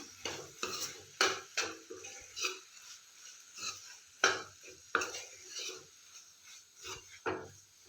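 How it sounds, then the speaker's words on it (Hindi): A spoon stirs a ground sesame mixture in a pan with quiet, irregular scraping strokes over a faint sizzle, the strokes coming close together. "और अब हम इसे अच्छे से मिक्स कर लेते हैं।"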